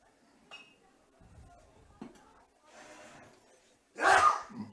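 A single loud, sharp sneeze bursts out near the end, after a few quiet clinks and faint rustling in an otherwise hushed room, during a high school baseball game broadcast.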